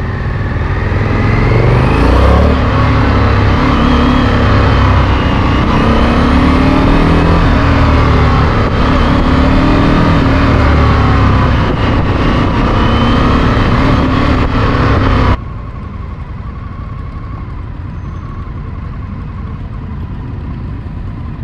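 A 2020 Indian FTR 1200 S motorcycle engine revs loudly and close by, its pitch rising and falling in repeated surges before dropping abruptly to a quieter, lower hum.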